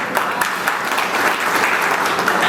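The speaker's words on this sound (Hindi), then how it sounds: "इसके लिए कहीं ना कहीं मैं एक जोरदार ताली आप लोगों के लिए चाहूंगा" Audience applause at a tractor company's Kisan Mall 25th anniversary celebration, steady dense clapping from a crowd sustained throughout, fairly loud and close with no voices over it.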